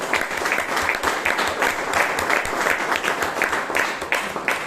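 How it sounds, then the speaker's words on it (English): Audience applause fills a Toastmasters club meeting room in Bangalore, a steady, dense round of clapping that holds for several seconds at a fairly loud, even level with no pauses. "So please give her a huge round of applause."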